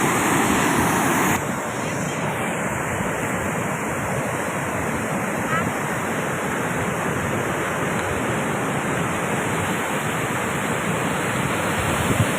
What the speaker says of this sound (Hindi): गति के साथ ये पानी आ रहा है, आगे एक कुंड में ये जाकर पूरा पानी अंदर जाता है।